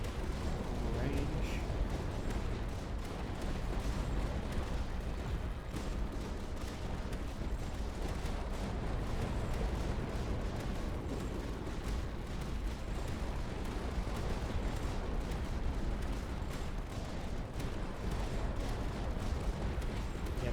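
Tower turret firing in the Tower Dominion game, a dense continuous barrage of booming artillery-like shots and explosions that stays loud and steady throughout, with a voice talking over it.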